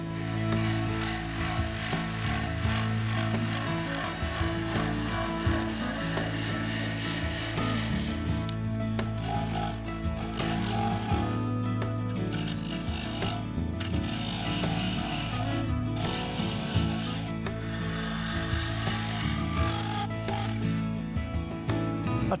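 A mahogany bowl spins on a wood lathe while a tool cuts into it, giving a continuous rasping, scraping hiss with a steady hum beneath that shifts in texture as the cut changes.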